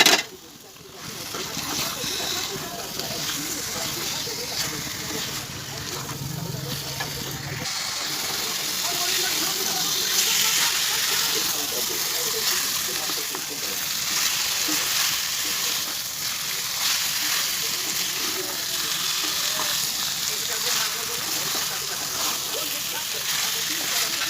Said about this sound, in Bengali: আমি এবার দিয়ে দেবো এই ম্যারিনেট করা মাংসটা।